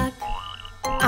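A cartoon frog in a German children's song about three frogs in a swamp gives a short, close, rising croak, bracketed by brief bursts of music.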